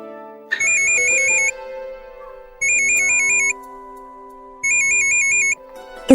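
A mobile phone ringtone plays in a home, three bursts of a bright repeating electronic melody separated by short pauses, loud and close with no talk over it.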